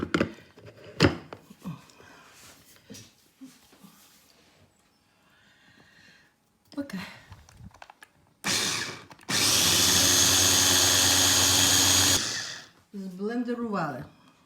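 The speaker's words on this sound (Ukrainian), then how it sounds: "і блендеруємо" A blender purées hot pumpkin cream soup with parsley in a home kitchen. The motor gives one loud, sustained whir of about four seconds, with scattered kitchen clatter and talk before and after it.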